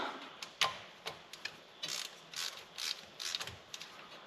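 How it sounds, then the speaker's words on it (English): A hand ratchet loosening the drain plug on a Jeep Grand Cherokee's driveline, a rapid series of close, crisp clicks in uneven bursts, heard alone. "Now we can just use our regular old ratchet and"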